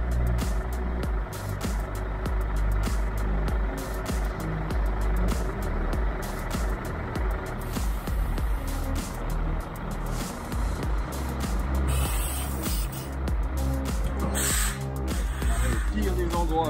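A Scania Streamline R450 truck backs up, its reversing alarm beeping in a steady repeated pattern over a loud low diesel rumble. Faint voices and a crow's caws come through in the background.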